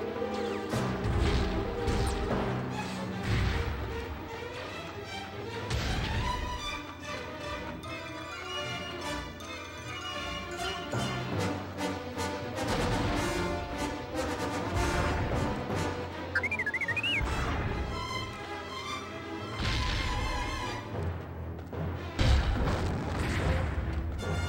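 A Star Wars The Clone Wars game cannon overloads and explodes in a run of loud booms and crashes, several heavy blasts spread across the stretch with rumbling aftermath between them.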